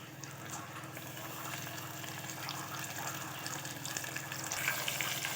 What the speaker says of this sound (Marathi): टोमॅटो घातलं मी त्यात आणि ते सगळं परतून घेतलं.